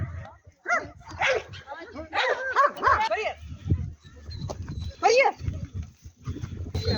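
A Doberman barks and yips in short bursts, fairly close, at a Halloween event at a dog-handling club, with people talking over and between the barks.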